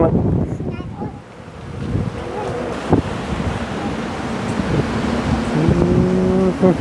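Wind blows outdoors near a roof, a steady rushing that buffets the microphone, with faint voices and a low rumble mixed in.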